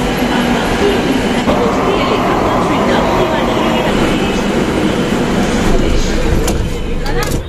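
A Kolkata metro train at Netaji metro station produces a loud, continuous rumbling roar that holds steady from start to finish, with faint indistinct voices mixed into the din.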